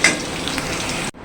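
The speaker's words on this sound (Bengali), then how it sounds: "একই তেলে আমি বড়িগুলি ভেজে নিব" Lentil dumplings (bori) sizzle in hot oil in a pan that was just used for frying potatoes. A dense, close crackle holds steady, then drops away abruptly near the end.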